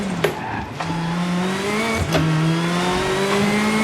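A rally car in the racing game Assetto Corsa Rally revs hard with a steady engine drone rising through gear shifts, loud and up close, with brief tyre noise and no speech.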